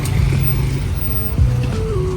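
Car traffic passing along a busy town street, with a steady engine rumble and a rising rev near the middle. The sound is close and continuous, and no one speaks.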